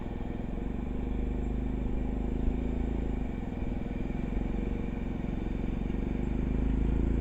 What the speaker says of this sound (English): So that's John riding the four-wheelers.